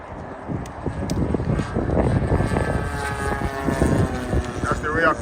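A Great Planes Reactor model airplane flies overhead on a very windy day, its engine a rough, fluttering drone under heavy wind buffeting, while people talk nearby.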